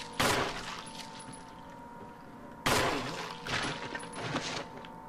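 Two loud gunshots ring out in the Resident Evil HD Remaster video game, a few seconds apart, each with a sharp crack and echoing tail, followed by softer rattling impacts.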